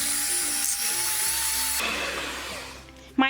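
Electric hand mixer whirring steadily as it beats flour into Swiss roll cake batter, a close, even motor buzz whose tone shifts midway, ending with a short clatter.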